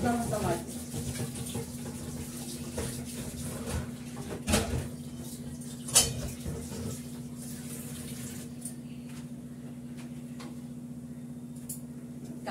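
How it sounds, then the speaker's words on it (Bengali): Tap water runs steadily while a pan is washed with soap, a continuous close splashing wash broken by a few sharp knocks and clanks of the pan against the sink. "কড়াটা ধুয়ে নিয়ে একটু সাবান দিয়ে ধুয়ে"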